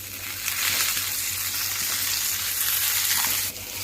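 Onions and curry leaves sizzle in a hot pan for upma, frying with a bright, crackling hiss and occasional stirring scrapes, close and steady, with no voices.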